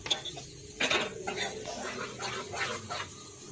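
A spoon scraping and clinking against a pot while potato kurma is stirred together with spices, with intermittent metallic taps and soft shuffling, fairly quiet and close.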